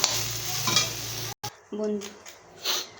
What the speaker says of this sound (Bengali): আমার কিন্তু বন্ধুরা সোয়াবিনটা ভাজা হয়ে গেছে